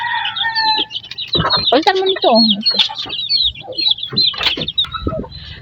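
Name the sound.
hens clucking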